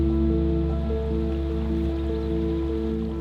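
A Southwestern creek lined with cottonwoods and sycamores flows with a steady, soft wash of water, heard continuously beneath a low, sustained musical drone.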